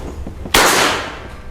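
A Gejluk Black Panther PCP air rifle fires a single sharp, loud shot, close by. The crack is followed by a quick decaying ring, with only low background noise before it.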